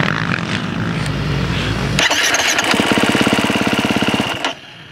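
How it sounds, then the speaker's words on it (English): A KTM 350 SX-F four-stroke dirt bike engine at a raceway runs close and loud, rising into a fast, rapid-firing rev before cutting off abruptly near the end. "We're out at Paula Raceway today testing KTM's new 350 SXF."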